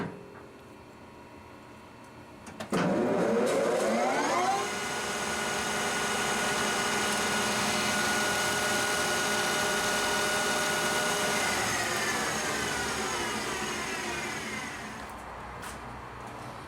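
A lathe facing the back side of a custom beer tap handle: after a clunk, the machine spins up into a steady, loud whirring hum with a cutting whine, holds for about ten seconds, then winds down.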